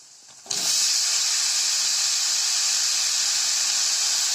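Chopped mushrooms drop into a pan of sautéed onions for a roadside-style Tamil mushroom soup, setting off a sudden loud sizzle that settles into a steady, close hiss.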